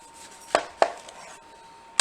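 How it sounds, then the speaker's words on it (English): Knife cutting through cooked potatoes on a board while making gnocchi, two sharp chopping thuds close together, then a third right at the end, clear and near. "Now cut them in half to release some steam."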